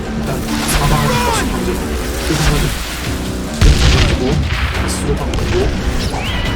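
Video game explosions from the Western shooter Call of Juarez: Gunslinger, with a heavy boom and crashing impacts standing out midway through a dense, steady bed of game music and action sounds, while a voice talks over it.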